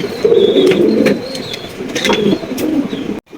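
A pair of black Sirazi pigeons at a pigeon farm coo in low, throaty, repeated phrases, loud and close, alone without talk before an abrupt cut at the end.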